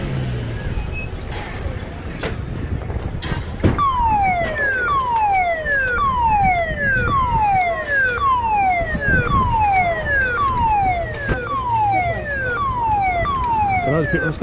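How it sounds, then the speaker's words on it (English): An RNLI lifeboat station assembly siren at Newquay Harbour wails loudly in repeated falling sweeps, one after another, over traffic noise and faint background voices. "the assembly siren is about to sound, and crew will be arriving"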